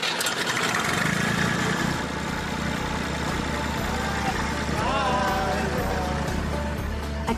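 Classic tractor engine starting up and then idling in the Hampshire countryside, a steady close mechanical chug with a low throb, while a voice briefly talks over it.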